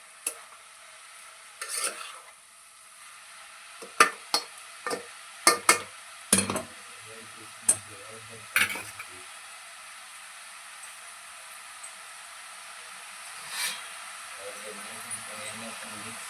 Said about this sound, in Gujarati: ટમેટું નાખીને આપણે એમાં મિક્સ કરી લેવું